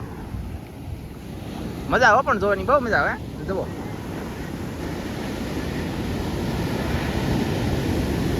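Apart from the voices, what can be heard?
sea waves crashing during a storm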